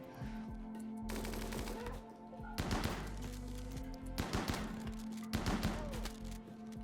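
Gunfire from the video game RimWorld: several rapid machine-gun bursts come in separate volleys over a steady low hum, all fairly faint.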